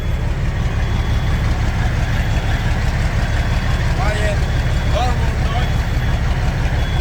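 A car engine idles steadily just after its first start-up, a constant low rumble close and loud throughout, with brief whistle-like chirps and voices speaking over it.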